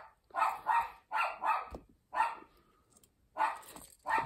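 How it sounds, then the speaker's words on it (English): A dog barks repeatedly in quick pairs and short bursts, moderately close, with brief gaps between volleys. "my dog is barking"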